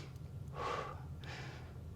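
Two soft, close breaths during a Pilates mat exercise at home, a fuller inhale followed by a gentler exhale, quiet and set against a low steady hum.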